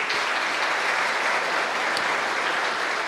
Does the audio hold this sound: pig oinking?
no